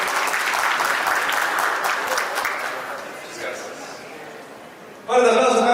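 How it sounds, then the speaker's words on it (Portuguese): A large audience gives Gabriel strong applause at an event, dense clapping that gradually tapers off into room noise before a sudden burst of tonal sound at the end. "Un fuerte aplauso, por favor, para Gabriel"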